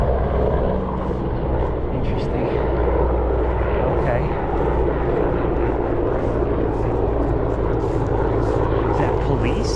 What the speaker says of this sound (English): That's very low. Flying helicopter.